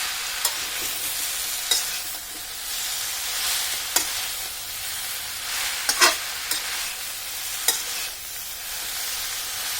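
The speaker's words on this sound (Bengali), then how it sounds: "এটাকে একটু ভালোভাবে নাড়াচাড়া করতে হবে।" Chalta (elephant apple) pickle stirred in a hot pan gives a steady loud sizzle, with a spoon scraping and knocking against the metal every second or two.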